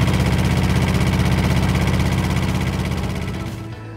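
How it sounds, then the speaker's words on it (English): Engine of a CTE Traccess 230 aerial platform running at a loud, steady idle with a throbbing low rumble, fading off near the end. "Now we can start the engine from the back, or we can start the engine from the remote,"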